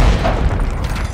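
Grenade blast in Call of Duty MW3 gameplay, a loud, dense low rumbling boom that fills the moment and stays heavy throughout with no quiet gap.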